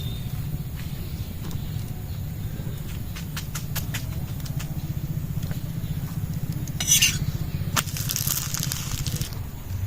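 Flour-based veg ali cooking in oil in a pan, a steady close frying hiss running throughout with light clinks and scrapes of a utensil, no talk.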